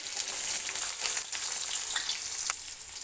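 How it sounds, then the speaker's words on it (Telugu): Chopped onion pieces fry in hot oil with mustard and cumin seeds for a broad bean curry, producing a loud, steady crackling sizzle with small pops and no voices. "ఆవాలు జీలకర్ర వేగిన తర్వాత ఆనియన్ ముక్కలు వేస్తున్నాను"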